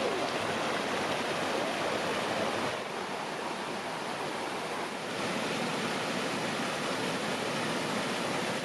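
Creek water flowing steadily in a natural stream with a swimming hole and drop nearby, a constant broad rushing wash that stays loud and even throughout, with no talking.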